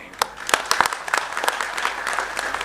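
Audience clapping at a political rally speech, a burst of scattered claps from a crowd rising and sustained at moderate loudness, somewhat sparse and uneven.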